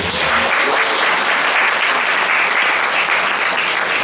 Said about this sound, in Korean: 이럴 때 박수 한번 쳐주기래.